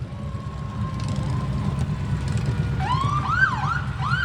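Pine Township Engine Company Station 85 fire engine in the Grove City Veterans Day parade, its siren starting to wail in rising and falling sweeps over a low engine rumble and street ambience.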